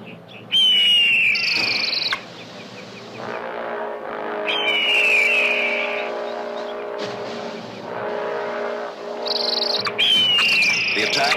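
Red-tailed hawks attacking an eagle over a spring desert let out three harsh, descending screams spaced several seconds apart, each loud and near, over a steady low droning rumble.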